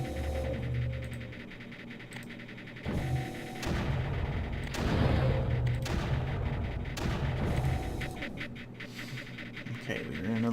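Bombs exploding in the Creeper World video game, a string of loud booming blasts and rumbling bursts over a steady game soundtrack hum.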